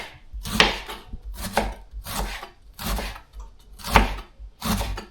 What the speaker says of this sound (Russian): Вот так я люблю нарезать.